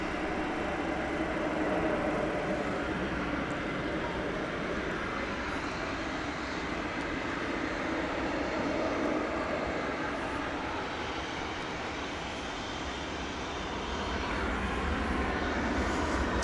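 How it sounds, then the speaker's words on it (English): An American Airlines 737-800 arriving from Puerto Vallarta at DFW Airport, a steady distant jet roar holding at an even level throughout, swelling slightly near the end, with no talk over it. "Arriving from Puerto Vallarta in Mexico, flight 1093 American Airlines,"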